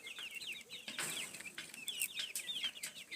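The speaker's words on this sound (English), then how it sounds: "She's feeding the chicken some greenery" Chickens and chicks clucking and peeping steadily at close range while being fed greenery, with brief rustling bursts among the calls and no talking.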